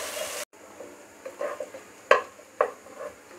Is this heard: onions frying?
yes